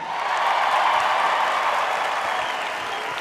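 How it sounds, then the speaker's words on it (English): A large live audience at the Miss USA 2019 pageant in Reno, Tahoe applauds and cheers for T-Pain, a dense, steady wash of clapping and crowd noise holding loud and even throughout. "Guys, give it up one more time for T-Pain!"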